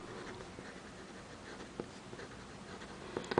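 A Hero 616 fountain pen with a hard, stiff nib scratches across paper in faint, close strokes, a soft continuous scrape with a few tiny taps near the end.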